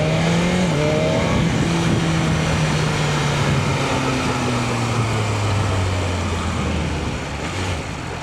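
A vehicle speeds past on a freeway, a loud, steady engine roar with a descending pitch as it passes, heard near a 2025 BMW S1000RR motorcycle with no talking.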